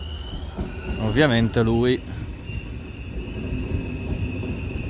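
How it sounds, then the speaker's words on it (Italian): A diesel train rumbles steadily on Tuscan rails, with a brief loud squealing tone rising above the running noise while someone speaks briefly. "Bello, sempre bello il diesel."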